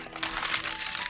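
Vintage antique newspaper-style paper crackles and crinkles as it is handled, a close, dry rustle with irregular bursts that continues through the moment.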